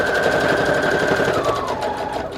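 A sewing machine with a normal sewing needle stitches paper collage tags at a long stitch length, a loud steady mechanical chatter running close and continuous with a faint whine shifting partway through.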